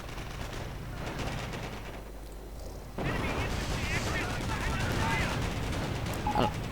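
Dense gunfire and explosions fill a World War II strategy game battle as an aircraft strafes an enemy force, a constant roar of shots and blasts with a commentator's voice running over it.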